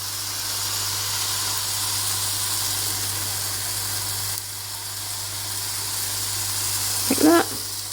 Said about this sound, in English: like teaspoon or so of coconut oil into the pan and cook them